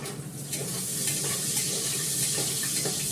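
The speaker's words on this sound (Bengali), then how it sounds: "আলুটা ভাজা হয়ে গেছে" Potatoes fry in a pan, a steady soft sizzle filling the whole clip at low volume, with faint scraping and bubbling textures under it and no voices.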